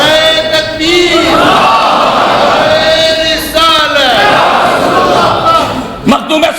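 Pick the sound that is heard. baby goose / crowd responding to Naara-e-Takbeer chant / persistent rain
crowd responding to Naara-e-Takbeer chant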